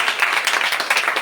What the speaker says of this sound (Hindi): उसके लिए जोरदार ताली हो।